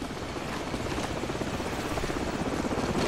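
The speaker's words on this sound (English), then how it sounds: "Hold on, the helicopter's back." A helicopter flies overhead during a Call of Duty Modern Warfare mission, a steady rotor chop that grows slightly louder and more pulsing over a few seconds, with no voices.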